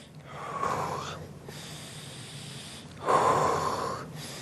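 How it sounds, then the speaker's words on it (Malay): Two slow, deliberate breaths are drawn in through the nose during a sports science breathing exercise, each a close, clear airy rush about a second long, with a quiet pause between them. "Tarik nafas guna hidung."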